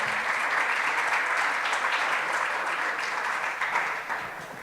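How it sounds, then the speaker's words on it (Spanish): An audience at a conference talk on libraries and the semantic web applauds a speaker with sustained clapping that fades slightly toward the end. "Demos un aplauso a la maestra Lisbeth Herrera Delgado."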